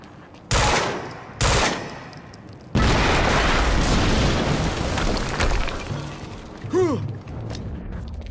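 Explosions and gunfire in the action video game Quantum Break: two sharp blasts, then a long, loud roar of shooting and debris with a brief metallic whine near the end.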